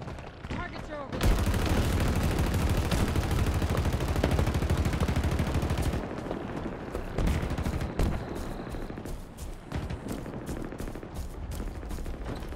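Halo Infinite combat fills the space with loud, continuous automatic gunfire, then thins into choppier bursts and single shots, with brief voices heard under the fire.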